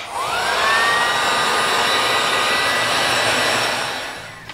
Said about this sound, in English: after I've soldered, I'd just like to seal it with heat shrink.